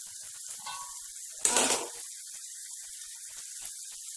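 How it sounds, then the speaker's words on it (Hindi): Tomato masala for paneer bhurji frying in a pan gives a sudden short sizzle burst, then settles back to a faint steady hiss, with no voices. "जब तक टमाटर अपना सॉफ्ट हो जाएगा तब तक हम इसे भूनेंगे"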